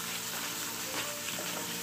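Okra dropped into hot ghee and frying, a dense, steady close sizzle and crackle for a couple of seconds with no talk.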